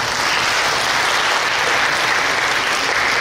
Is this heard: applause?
yes